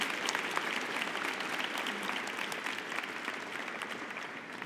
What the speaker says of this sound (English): Now please join me in a hearty round of applause to congratulate them all.